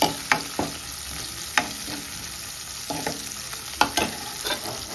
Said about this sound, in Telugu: ఉల్లిపాయలు అన్నీ, పచ్చిమిర్చి అన్నీ వేగాయండి